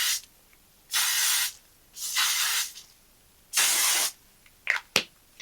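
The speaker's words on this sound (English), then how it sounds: "So let me just go in with that spray quickly." Three long hissing bursts of a makeup setting spray bottle misting onto a face, close and loud, with pauses between, followed by two quick short spritzes.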